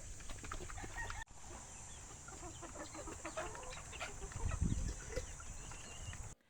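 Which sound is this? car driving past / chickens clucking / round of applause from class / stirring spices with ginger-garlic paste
chickens clucking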